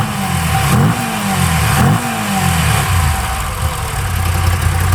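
A 2021 Moto Guzzi V85 TT engine idles close by, then is blipped twice in quick throttle revs that rise and fall before settling back into a steady, rumbling idle.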